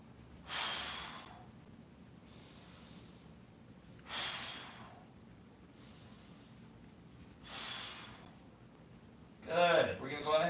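Heavy rhythmic breathing during push-ups at home: three sharp, breathy exhales spaced a few seconds apart, close and fairly quiet, followed by a brief burst of voice.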